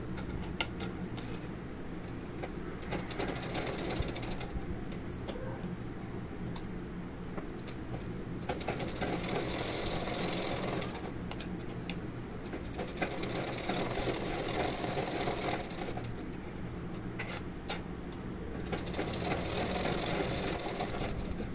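Sewing machine stitching lining cloth onto a blouse, a steady, fairly quiet motor hum running continuously with slight pulses in intensity, no voices.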